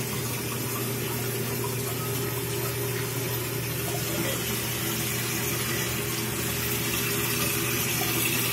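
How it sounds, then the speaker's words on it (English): Water runs steadily into a toilet tank through a faulty fill valve that won't shut off, a constant close hiss and rush with a low hum beneath, unbroken and without talk. "still pouring water into the toilet, it's just not stopping"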